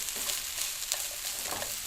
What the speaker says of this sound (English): add the rice into the frying pan, keep stirring it for about 5 minutes